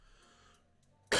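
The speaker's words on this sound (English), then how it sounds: "Damn this cough." A single abrupt, close cough bursts out at the end after near silence in a workshop.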